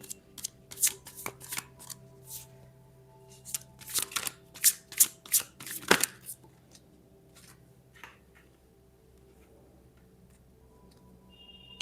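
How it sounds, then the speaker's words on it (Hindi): Tarot cards being shuffled and laid out by hand: close, papery riffling and flicking in several quick bursts, then softer sliding and tapping as the cards are arranged, with no voices. "तो हम कार्ड्स को अरेंज कर लेते हैं।"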